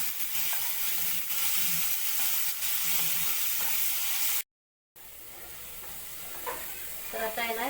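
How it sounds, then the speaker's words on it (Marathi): Tomatoes for matar paneer sauté in a pan with a loud, continuous sizzle and hiss and the scrape of stirring. A brief silent gap breaks the sound before the frying resumes. "हे चांगलं परतवून घ्यायचं आपल्याला, थोडं टोमॅटो मऊ होईपर्यंत।"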